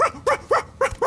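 A dog barks five times in quick, even succession, close by and fairly loud, with no talking.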